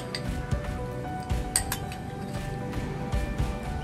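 Powdered biscuit and soft butter mixed together in a bowl for a no-cook mango parfait, with light clinks and taps of a spoon against the bowl over a soft squishing bed, close and moderate.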